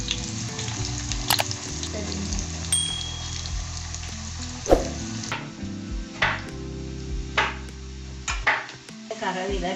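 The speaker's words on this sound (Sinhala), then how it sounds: "කරවිල පෙති බෙද ගැනීම සඳහා අපි පොල් තෙල් දානවා හට්ටියට ඉතේ තියලා" Bitter gourd slices frying in coconut oil in a pot, with a steady low sizzle running throughout and occasional sharper clinks and stirring knocks near the end; no voices.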